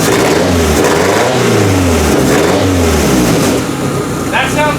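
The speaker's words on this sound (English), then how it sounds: "That sounds like a derby car." A 1999 Toyota Camry demolition derby car with a newly installed header, and exhaust now ending just after the flex pipe, revs loudly and close, with rough engine pitch rising and falling through several throttle blips.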